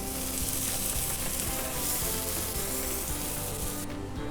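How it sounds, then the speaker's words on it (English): Sweet corn and chanterelle mushrooms sautéing in a pan, a steady loud sizzle and crackle of frying that fills the whole stretch with no voices. "So we're sauteing that sweet corn up with the chanterelle mushrooms."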